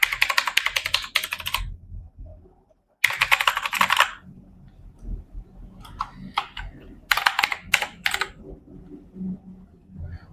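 Someone types details into a student admission form on a computer keyboard, giving close, fast key clatter in short runs broken by pauses and a brief silent gap.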